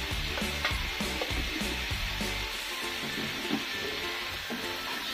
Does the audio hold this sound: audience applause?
no